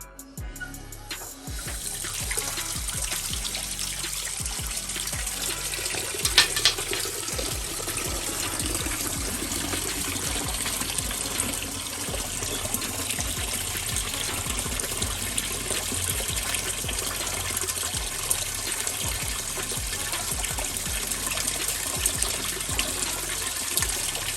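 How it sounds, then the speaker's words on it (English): Water gushes steadily from the drain valve of a hot water tank being flushed of debris, a continuous loud rushing flow lasting throughout with a brief surge near the start. "I'm about to open the drain up again."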